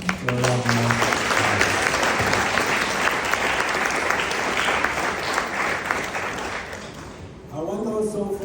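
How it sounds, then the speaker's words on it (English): A large audience applauds loudly and steadily for several seconds, with a voice speaking briefly at the start and again as the clapping fades. "I want us to give a very special round of applause to our Edmund."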